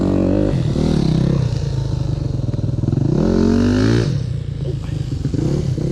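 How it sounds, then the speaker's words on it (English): A child's trail bike engine runs close and loud, a steady putter with rising revs that climb and settle a few times, with faint clattering and no clear talk. "Your bike is running, it's just not in gear yet."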